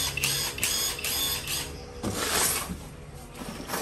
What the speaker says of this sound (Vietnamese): Thì đây là mình sẽ thử cái thân chuyên vít này.